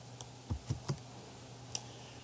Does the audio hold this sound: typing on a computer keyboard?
yes